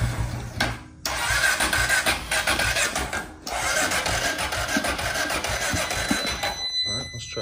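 An ATV engine that had been sitting, with its carburetor just primed, runs loud and steady after cranking, dips briefly twice, then cuts off near the end.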